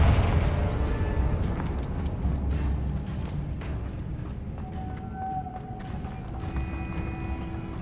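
A Confringo fire spell explodes in Hogwarts Legacy with a loud, sustained roaring blast that rumbles on steadily in the foreground for several seconds.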